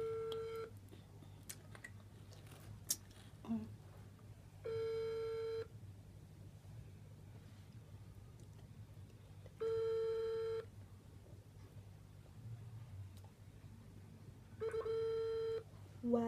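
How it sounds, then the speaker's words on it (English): An outgoing phone call rings out unanswered, with three evenly spaced ringback tones of about a second each heard faintly over a low steady hum. "Okay, I'm calling the last person, Waza."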